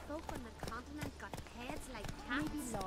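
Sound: horse hooves in The Witcher 3 video game

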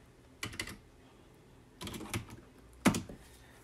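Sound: typing a command on a computer keyboard in a terminal

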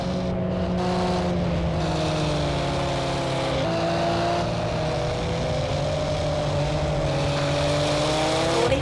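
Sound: race cars chasing in video game Project Cars 2

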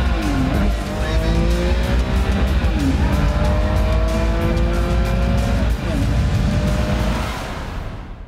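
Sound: Ferrari F40 and 288 GTO racing on track

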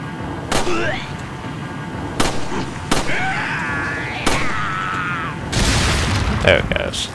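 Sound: enemies shooting in the video game Resident Evil 4

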